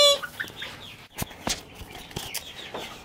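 Chickens cluck and chatter inside a barn, including a part-silkie hen, with several short squawks and clucks close by, overlapping in an irregular, busy rhythm.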